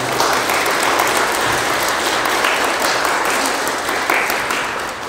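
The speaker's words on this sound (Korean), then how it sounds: "감사와 영광의 박수 올려드리겠습니다." A church congregation gives sustained, dense applause during an Easter Sunday worship service, a steady wash of many hands clapping that holds evenly throughout and fades slightly at the end.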